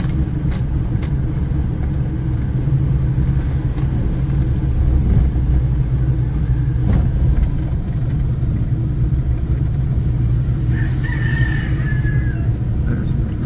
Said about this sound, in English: Roosters and chickens